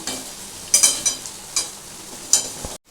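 Mixed fried rice being stirred in a hot pan, with a spoon scraping and clinking in several loud close strokes over a soft steady sizzle, then a sudden stop.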